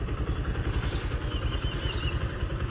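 A Suzuki GSX125 motorcycle with about 901 km on it idles on its double stand, its single-cylinder engine thumping in a fast, even, low pulse at close range with no voices over it.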